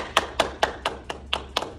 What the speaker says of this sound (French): Oh, on s'applaudit, bravo!